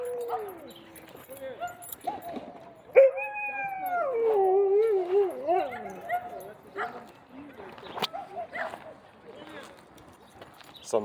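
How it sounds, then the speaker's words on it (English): Husky at a dog park letting out a long wavering howl with rising and falling pitch, preceded and followed by shorter yips and whimpers, fairly close, while people talk intermittently nearby. "that's why he's howling"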